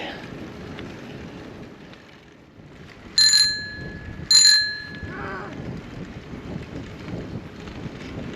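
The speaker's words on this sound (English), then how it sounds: "That's a dinky bell." A small bell on a tadpole trike rings twice, two bright metallic dings about a second apart that ring out briefly over wind noise and outdoor rustle.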